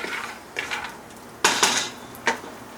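Peeled almonds being pan fried, heard as a few distinct metallic clinks and scrapes of a utensil against the pan over a quiet background, with no talking.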